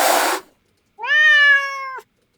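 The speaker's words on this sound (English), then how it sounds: "There's cat noises." Domestic cat noises from a sound effects collection: a short breathy hiss, then after a brief gap a single clear, loud, drawn-out meow, close and alone.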